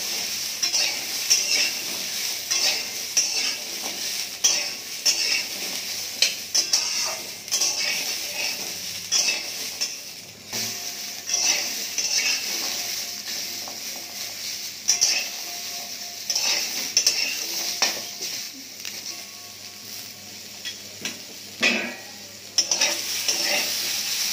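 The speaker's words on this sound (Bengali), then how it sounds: "এবার এগুলোকে একটু ভালো করে ভেজে নেব" Young hog plums sizzle steadily in oil in a pan for chutney, with repeated scraping and clinking strokes of a spoon stirring them throughout.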